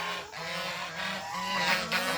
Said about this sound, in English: There's my other rooster.